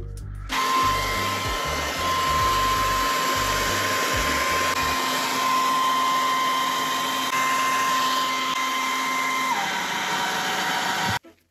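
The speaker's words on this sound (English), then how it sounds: "the blow dryer will kind of make the plastic wrap cling onto it" Vintage blow dryer runs as a steady, loud, close whine with a constant tone while heating plastic wrap around a Yeezy 350 V2 sneaker, cutting off abruptly at the end.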